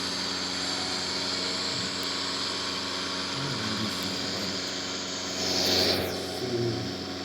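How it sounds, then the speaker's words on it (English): An aircraft in flight in the Infinite Flight game under autopilot at about 90 knots, heard as a steady droning engine hum with tonal whine, swelling slightly near the end. "the aircraft is flying"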